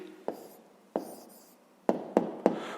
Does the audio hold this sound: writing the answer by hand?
yes